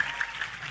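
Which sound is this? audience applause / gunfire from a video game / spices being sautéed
audience applause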